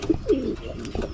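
Pigeon cooing inside a loft: a few soft, low, throaty coos in quick succession, close by, with no talking.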